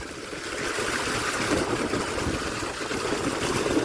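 Water gushing steadily from a farm pump outlet onto a cumin field, a continuous broad rushing flow close by with wind noise mixed in, no voices.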